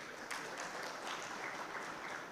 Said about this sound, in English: We can clap for the day.